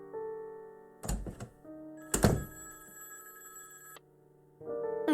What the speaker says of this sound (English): Yo, Whiskers, there goes the phone.